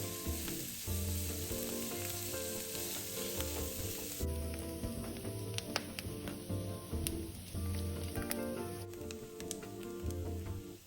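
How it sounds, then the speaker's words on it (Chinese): Minced garlic and diced Chinese sausage stir-fried in a wok give a steady, dense sizzle, with light scraping stirs and occasional sharp ticks throughout. "接下来再加入蒜末20克，腊肠半条，切成颗粒状，"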